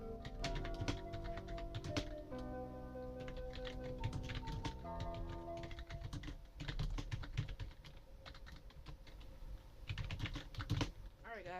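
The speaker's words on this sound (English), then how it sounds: "this keyboard is very loud, and I will go ahead and play a sample of that right now" A loud Prymax gaming keyboard is typed on continuously at close range, fast clattering keystrokes in dense bursts with sharp individual clicks, over a faint background hum.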